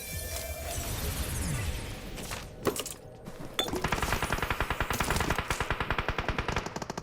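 Automatic gunfire in the mobile battle royale game BGMI, first distant and scattered, then a close, loud rapid burst of evenly spaced shots filling the second half.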